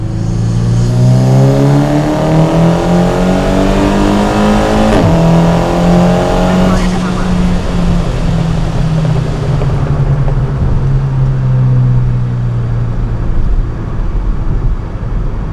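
A Volkswagen Scirocco R with 385 bhp accelerates hard from inside the car, its engine note climbing loudly through gear changes into a sustained roar, with no talk.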